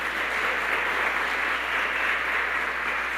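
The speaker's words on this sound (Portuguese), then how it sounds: "Quem crê, dá uma forte salva de palmas para Jesus." A church congregation gives a strong, sustained round of applause for Jesus during a sermon, a dense, even roar of many hands clapping at once, loud and unbroken throughout.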